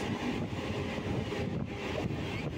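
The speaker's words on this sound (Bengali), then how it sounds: "আমাদের পাশ দিয়ে চলে যাচ্ছে এই মুহূর্তে 12074 ভুবনেশ্বর হাওড়া জনশতাব্দী এক্সপ্রেস।" Jan Shatabdi Express, train 12074 from Bhubaneswar to Howrah, passing close by: a continuous dense rumble and clatter of rolling carriages with wind noise over the microphone, steady throughout.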